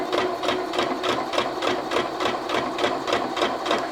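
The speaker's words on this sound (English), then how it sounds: "I have now sewn the two pairs together" A sewing machine hums close up with a fast, even rhythmic pulse, joining rag quilt nine-patch blocks along a three-quarter-inch seam, running continuously with no voices.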